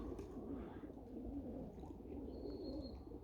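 Hungry Budapest pigeons coo in low, continuous murmurs close by, with a few faint chirps over the steady cooing.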